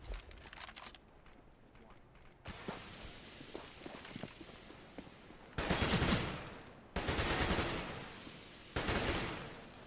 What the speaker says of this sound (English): Zipnik's just firing through the, firing through that wall